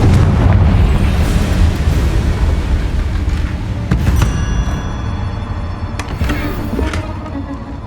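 Blasting spell explosions from Hogwarts Legacy video game combat, a loud sustained rumble of booms with sharp bursts near four and six seconds, layered with ringing magical tones and game effects.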